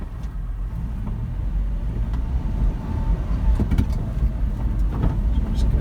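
A Suzuki Carry 5-speed four-wheel-drive mini truck cruises along a soft gravel ATV and snowmobile trail, its engine a steady low rumble with road noise and occasional rattles throughout.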